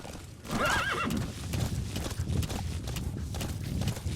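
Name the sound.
horse neighing and hooves in video game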